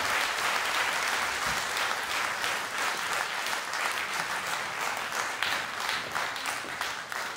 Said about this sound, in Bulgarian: Аплодисменти още веднъж за тази музикална битва!